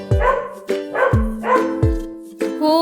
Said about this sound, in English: A dog barks.